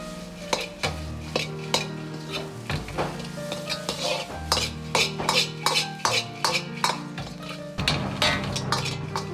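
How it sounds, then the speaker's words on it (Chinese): Diced chicken is stir-fried in a wok with cumin seasoning and oyster sauce, metal spatula clanking and scraping in quick repeated strokes over a continuous close sizzle. "倒入控干油的鸡丁，"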